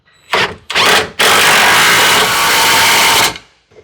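A power tool runs in two short bursts, then one long sustained whir as bolts are tightened on a through-frame slide rack arm of an NXG slide, loud and close with no talking.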